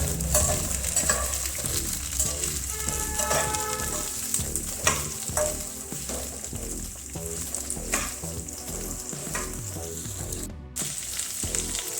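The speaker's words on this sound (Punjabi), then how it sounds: "ਇਹਨਾਂ ਨਾਲ ਹੀ ਆਪਾਂ ਇਹਨਾਂ ਨੂੰ ਫਰਾਈ ਕਰਾਂਗੇ" Mixed vegetables sizzle steadily in a hot pan for a restaurant-style mixed vegetable dish, with repeated scraping clicks of a spoon stirring through them, close and continuous with no talking.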